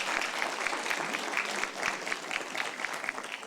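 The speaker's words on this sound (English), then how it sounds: "Let's give everyone a big, loud round of applause." An audience at a pitch competition evening applauds the presenters, a brisk, continuous patter of clapping at moderate distance with occasional sharper claps, holding fairly steady throughout.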